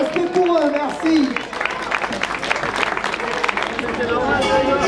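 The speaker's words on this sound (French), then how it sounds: "On les applaudit en quittant le podium s'il vous plaît." Spectators at a race podium ceremony clap as the racers step down, dense sustained applause mixed with crowd chatter and a voice speaking over it at the start.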